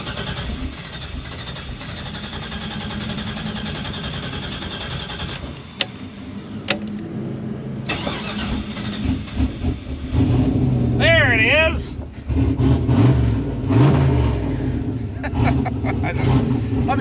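An Oldsmobile Cutlass engine cranks on the key, catches and revs with a loud rumble and rising roars, after a stretch of steady background noise, with a person speaking nearby.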